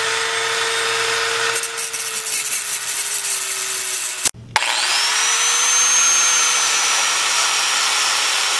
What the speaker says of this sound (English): I'm just going to use a Dremel tool and grind it right off